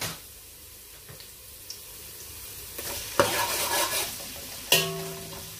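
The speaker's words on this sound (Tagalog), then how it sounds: "Gisa po natin ng maayos." Onion sautéed in a pan for arroz caldo, with a faint sizzle and a few scattered utensil taps, then louder stirring scrapes and a sharp clank of metal on the pan.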